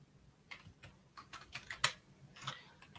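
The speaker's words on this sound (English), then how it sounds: "I'm still typing." Typing on a computer keyboard: faint, irregular clicks and taps of keys, with one sharper keystroke, soft and alone in a quiet room.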